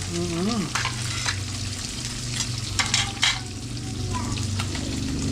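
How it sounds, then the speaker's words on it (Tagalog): A pot of tilapia paksiw bubbles and sizzles hard, a steady loud roiling crackle with occasional bursts, a voice briefly audible near the start. "Kumukulo na. Yun o. Ang lakas ng kulo"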